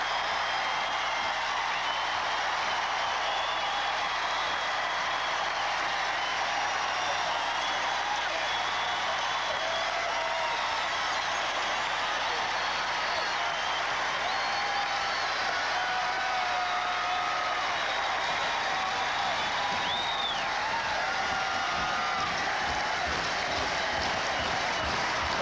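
Sustained roar of an arena crowd cheering at a 1984 MISL indoor soccer championship game between the Baltimore Blast and the St. Louis Steamers, a dense, unbroken wash of voices and clapping at a steady level for about twenty-five seconds.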